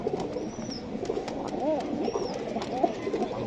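Iranian pigeons at a bird market give soft repeated coos and a few chirps amid a busy crowd, with people talking throughout.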